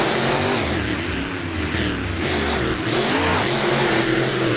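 Racing monster truck engines roar in a custom video game race at an Azteca track. The engines rev loudly and steadily and stay close for the whole stretch, with no voices over them.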